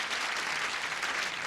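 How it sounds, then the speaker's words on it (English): Studio audience at a syndicated game show applauding, a dense, even burst of clapping filling the whole brief moment. "Applause, applause, applause."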